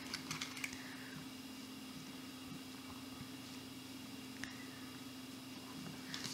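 A sewing machine bastes long stitches along a zipper facing on a pair of zip-inseam pajamas, giving a close, steady motor hum with fast mechanical ticking that runs without a break and without any voices.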